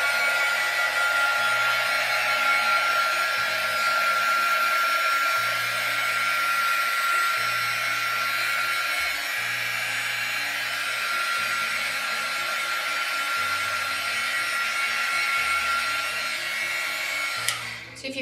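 A hair dryer blows continuously at a steady high pitch, loud and close, drying a balsa wood tray, with a faint low rumble beneath it.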